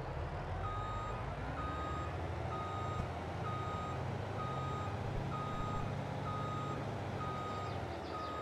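A reversing tractor in Farming Simulator 22 sounds its backup alarm, evenly spaced electronic beeps over a steady low diesel engine rumble, moderately loud and without talk.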